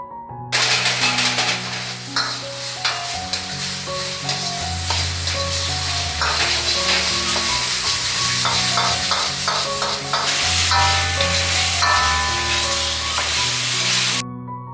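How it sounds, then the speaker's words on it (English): Chicken leg stir-frying Sichuan style in a wok, with a loud continuous sizzle and scraping of the spatula, while music plays underneath throughout. "Keep stir-frying until the color of chicken changed."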